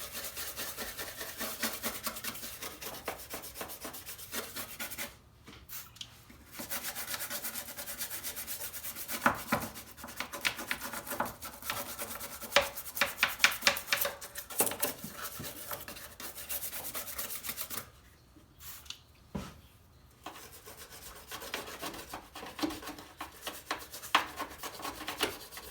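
A nylon brush scrubs grime in the engine bay of an AE86 with Simple Green cleaner, giving repeated rasping strokes in bursts with brief pauses between passes.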